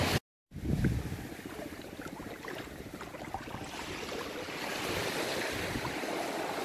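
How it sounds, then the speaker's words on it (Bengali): Sea waves roll onto the beach at Saint Martin Island, Bangladesh, where the current is strong. After a brief silence, a steady broadband wash of surf follows and grows slightly louder toward the end, with no talking. "একটু সাগরটা দেখাই।"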